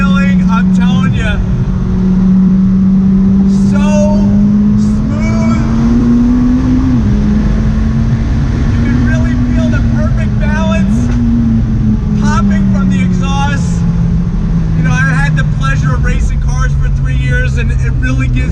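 A 2019 McLaren 600LT mid-engine sports car pulls hard from inside the cabin, its loud engine drone rising and dipping through gear changes with a steady, continuous roar while someone talks over it excitedly.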